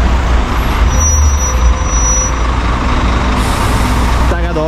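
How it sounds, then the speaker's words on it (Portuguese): A Comil Campeão Invictus DD double-decker bus, 14 metres long and a 2022 model, rumbles loudly at close range, with a hiss of air near the end. "Esse aqui é um Comil Campeão Invictus DD"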